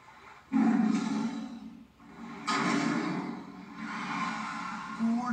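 A loud, sustained tiger roar from a toy or model sounds in two long swells with a brief gap between them, at a beach setting.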